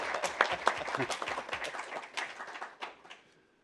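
Scattered applause from a panel audience at a social organisations event on fighting poverty: irregular, fairly sparse claps that thin out and fade to silence after about three seconds.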